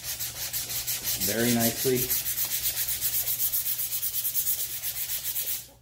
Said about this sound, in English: I'm going to go ahead and come back once the sanding is done.